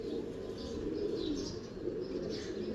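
A pigeon of an antique Gutt breed coos softly in a loft, low repeated murmuring calls with faint chirps above, fairly quiet and steady throughout.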